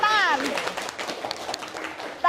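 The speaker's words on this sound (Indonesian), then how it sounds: "Oke, tepuk tangan." A classroom of students claps briefly, with scattered, uneven hand claps following a teacher's short spoken prompt at the start.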